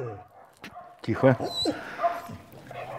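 Dogs yip and bark outdoors on an evening street in Sloviansk, a few sharp barks and whimpers close by, mixed with a person speaking briefly.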